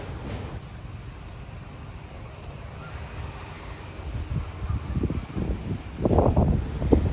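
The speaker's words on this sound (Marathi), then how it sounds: "तुम्ही इथे पाहू शकतात वारा किती सुटला आहे" Steady wind rushes past the microphone beside a lake in Nashik, with rumbling gusts that grow stronger and buffet harder toward the end; no one speaks.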